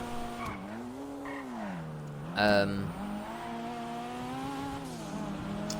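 A sports car in Grand Theft Auto 5 drives with a steady engine drone that rises and falls as it revs, broken by a brief loud tire squeal near the middle.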